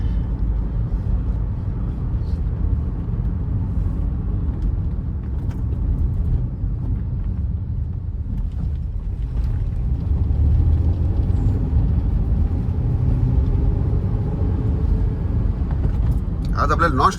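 A car travels on a long highway stretch toward Panvel, its steady low engine and road rumble filling the cabin at a constant level, swelling slightly in the second half, with no talk over it.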